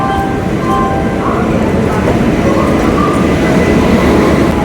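Steady rumble and rattle of a moving train from inside a carriage, continuous and fairly loud, with faint metallic clinks throughout.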